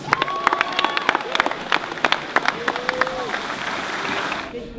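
An audience at a youth football camp claps in a burst of scattered applause while a person talks over it.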